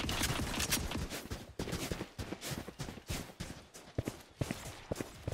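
Gunfire in the video game Valorant comes as rapid, loud, overlapping shot bursts almost without a break, with short pauses between volleys, over dense game noise.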